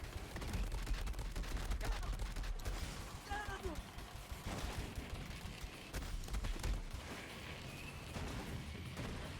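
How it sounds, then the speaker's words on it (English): Gunfire rattles through a Borderlands 3 firefight in irregular bursts, dense and mid-distance under a steady wash of game ambience and mechanical clatter, with no voice over it. "There's something shooting."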